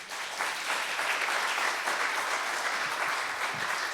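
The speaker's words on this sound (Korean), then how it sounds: "격려와 박수를 쳐주시면 감사하겠습니다." Church congregation applauding during an elders' ordination service in Incheon, a steady, dense wash of many hands clapping throughout, fairly distant and even, with no talking over it.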